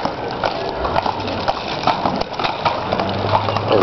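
Hooves clip-clop steadily and close by, a quick rhythmic clatter of a Mexican dancing horse walking on a hard surface.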